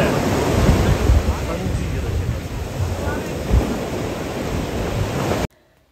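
Ocean surf rolls steadily at Hiriketiya Beach, a small bay in Sri Lanka, with a loud continuous wash of breaking waves and wind buffeting the microphone, cutting off abruptly near the end.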